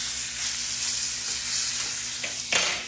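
Steady, loud sizzling of fatback frying slowly in a pan, a continuous hiss with a brief flare of crackle near the end.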